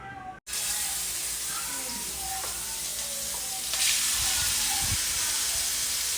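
Pork sizzles and crackles in hot cooking oil in a pan, a steady close frying hiss that swells slightly partway through, with occasional stirring.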